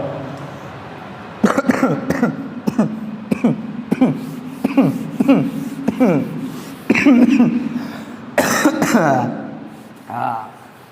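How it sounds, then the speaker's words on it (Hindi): Someone coughs repeatedly in sharp, close bursts, with throat clearing and a brief voice between fits. "कोशिश किया लेकिन खांसी नहीं रुका"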